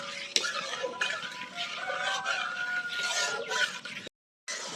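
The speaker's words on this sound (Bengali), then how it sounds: "আবার আমটাকে খুব ভালো করে আমি নাড়তে থাকবো," A spoon scrapes and stirs a thick mango and milk powder mixture in a pan over a lit stove, soft irregular scraping and clinks close by with occasional light bubbling.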